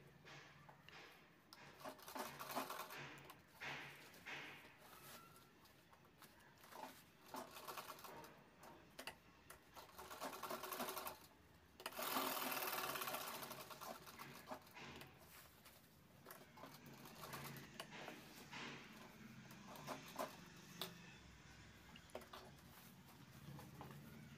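A home sewing machine stitches along three sides of a tote bag's inner lining, making quiet rapid mechanical whirring in on-and-off runs with short pauses between seams.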